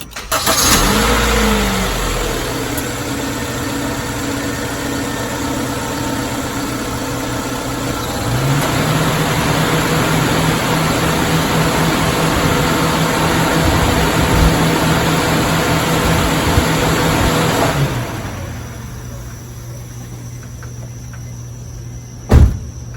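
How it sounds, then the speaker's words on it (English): A Honda CR-V idles with the air conditioning on and its radiator cooling fan spins up partway through, a steady engine drone overlaid by a rising whir that holds for several seconds and then drops away. "turn on the air condition, and see if this fan spins up too"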